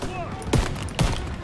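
Machine gun fire in Call of Duty: WWII, played on hard difficulty: two sharp, loud bursts about half a second apart over a rumbling in-game background.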